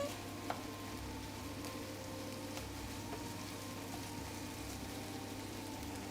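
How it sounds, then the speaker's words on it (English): Food sizzling in a pan while being stir-fried, a soft, steady frying hiss with a faint low hum underneath and a few light taps, quiet and continuous. "It's just at this point, just stir fry at this point."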